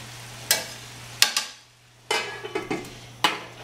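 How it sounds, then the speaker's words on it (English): Cabbage and onions cooking in a pan, stirred in a few separate scraping strokes with soft sizzling between them over a low steady hum. "Give it a little stir here."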